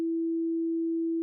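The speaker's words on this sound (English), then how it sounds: "back to our pure sine" A pure sine wave tone, steady and unwavering at a single pitch, alone with no other sound, starting and stopping abruptly.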